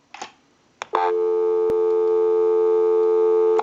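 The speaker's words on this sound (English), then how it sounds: "Give you some dial tone." A few handling clicks come from a Western Electric Princess rotary telephone, then a steady, unbroken dial tone hums clearly from the handset until the end.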